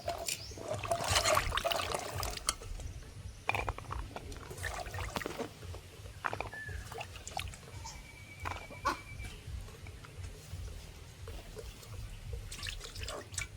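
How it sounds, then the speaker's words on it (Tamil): Long beans are rinsed in water in a home kitchen, with steady splashing and trickling, irregular drips and handling noises over a continuous low wash. "நாங்கள் இப்போ தண்ணி ஊற்றி கழுவி எடுத்து வெட்ட போகிறோம்."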